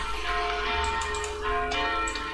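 Church bells ring from a church next door, sustained tolling tones with rhythmic metallic strikes layered over a dense background, loud and close throughout.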